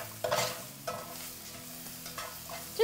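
Finely minced vegetables sauté in a pan, heard as a soft, close sizzle broken by a few distinct scraping stirs at a slow, uneven pace, with no talking.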